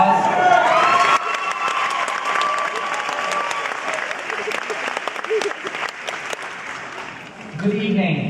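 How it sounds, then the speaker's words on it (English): Audience at a school of the arts graduation ceremony applauding and cheering after a piano performance, with a voice and lingering tones at the start, then sustained clapping with scattered whoops, and voices returning at the end. "Round of applause"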